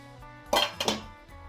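Dishes clank and clink close by as vada batter made with drumstick flowers is tipped from one vessel into a big pot, a short burst of two metallic knocks and scrapes.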